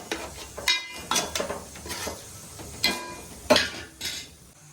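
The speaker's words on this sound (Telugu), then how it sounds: "ఓకే ఫ్రెండ్స్ ఇదైతే వేగుతుంది" Fish pieces frying in a pan for a fish curry over a low flame, with a soft sizzle under repeated scraping and clattering as they are turned, nearby and moderately loud.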